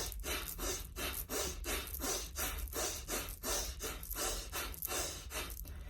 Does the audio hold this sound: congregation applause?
no